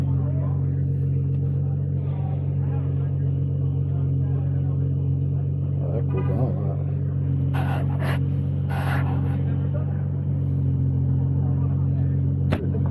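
Race cars at Watkins Glen International produce a constant, loud engine drone with a deep steady hum, heard close by while people talk briefly over it.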